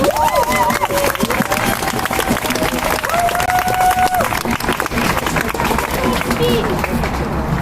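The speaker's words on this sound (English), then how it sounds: "everybody round of applause for Juvenile, please" Crowd applause and clapping fill the whole stretch, loud and continuous, with voices calling out over the noise.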